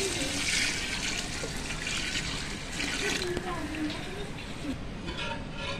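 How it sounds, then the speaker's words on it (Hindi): Water is poured steadily into a large pot of soaked rice for Sindhi biryani, about five kilos going in, a continuous rushing splash with a person talking over it. "ये देखिए हम इसमें पानी डालेंगे।"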